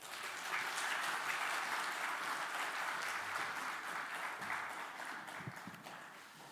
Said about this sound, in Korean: 나오실 때에 박수로 환영하겠습니다.